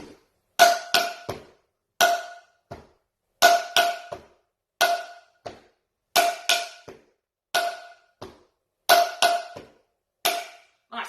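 Home drum beat played on a metal pan and a couch together: bright metallic clanks interlock with dull cushion thumps in a steady repeating groove, close and alone without talk.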